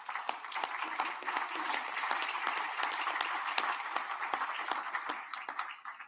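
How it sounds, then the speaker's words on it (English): Audience applause at a state university board meeting, moderately loud with distinct individual claps standing out, fading near the end. "I think that deserves a round of applause."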